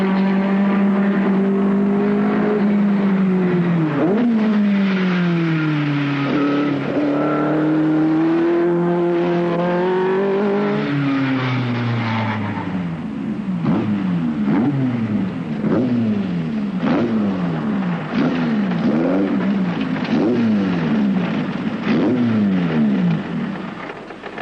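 Racing car engines rev loudly and continuously at a production car race, rising and falling in pitch with repeated quick throttle blips, close and dominant with no talk.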